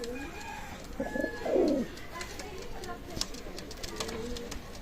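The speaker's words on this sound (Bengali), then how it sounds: "একজোড়া কবুতর আছে সাকি জেনারেশনের কবুতর" A Pakistani Shaki-breed pigeon gives a soft, throaty coo against steady background noise, with faint chirps and clicks scattered around it.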